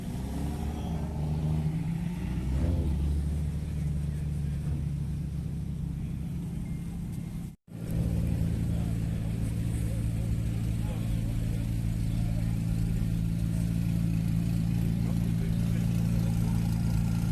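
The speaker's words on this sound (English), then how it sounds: "McLaren 600 LT." A McLaren 600LT idles with a steady low rumble at a busy supercar meet, swelling briefly in a rev before settling back, with a short dropout partway through.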